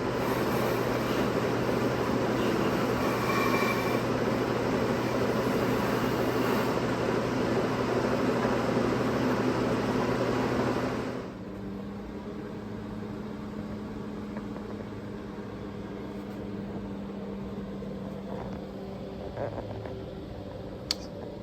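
A polishing machine buffs a Telecaster-style guitar body with a loud, steady motor whir for about eleven seconds, then drops to a quieter continuous hum.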